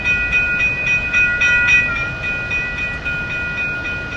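A continuous mechanical train rumble with steady high-pitched whining tones, like a synthesized locomotive hum, from the Roblox game Global Rails Revolution, playing on its own without talk.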